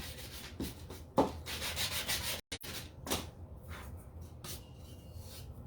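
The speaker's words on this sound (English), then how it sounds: "this sanding block doesn't really work too good" Close, rhythmic rasping strokes of a sanding block rubbing back and forth over wood, with a brief pause partway through.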